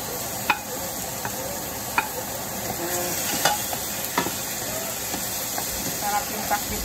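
Tomatoes are stirred into a sizzling pan of pinakbet, giving a steady hiss of frying punctuated by sharp clicks of a utensil against the pan at close range.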